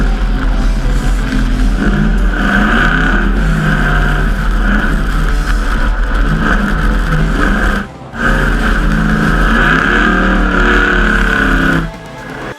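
Ford V8 car engine in a Need for Speed game, a loud sustained drone that cuts out briefly twice, with near-constant pitch and no talk.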